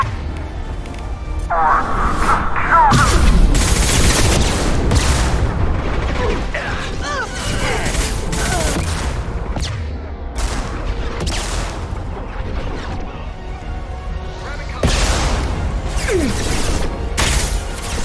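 A firefight in the video game Mass Effect 2 brings repeated gunshots, bursts and heavy booms across a busy battle, with voices calling out between the blasts.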